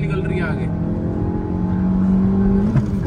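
Toyota Glanza and Suzuki Baleno hatchbacks accelerating side by side in a drag race with the AC on, a steady engine drone rising in pitch, close and loud under excited shouting.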